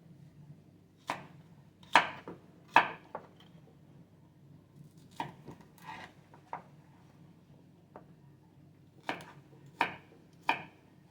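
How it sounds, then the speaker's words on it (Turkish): Knife chopping vegetables for an avocado salad on a board in short clustered bursts of sharp taps, with pauses between groups, close and fairly clear. "Salatalarımızı da doğrayıp ilave ediyoruz"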